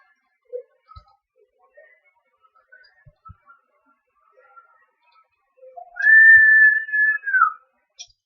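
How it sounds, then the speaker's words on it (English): After a few faint ticks and tones, a strong, sustained whistle rings out for over a second, then a shorter follow-up note trails off. "somebody's got a good strong whistle"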